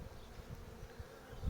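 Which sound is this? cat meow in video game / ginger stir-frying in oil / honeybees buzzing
honeybees buzzing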